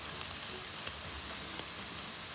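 Onions sauté in a pan as filling for chicken pastilla, giving a steady, soft sizzling hiss with occasional faint pops throughout.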